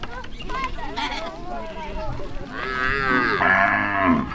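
Cattle moo loudly and repeatedly at close range during milking at a Maasai homestead in Tanzania, with long drawn-out calls rising toward the end and background chatter underneath.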